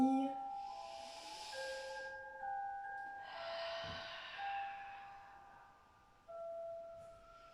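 Long breathy exhales during a one-leg circle exercise, two drawn-out airy hisses separated by a short pause, fairly close, over faint sustained musical tones.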